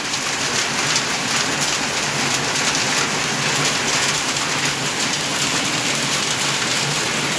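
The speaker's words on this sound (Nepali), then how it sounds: "मुर्तिबाङमा असिना सहित भारी वर्षा भइरहेको छ।" Heavy rain mixed with hail pounding down in Burtibang, Baglung, a dense, unbroken roar of drops hitting surfaces, steady and loud throughout with no voices.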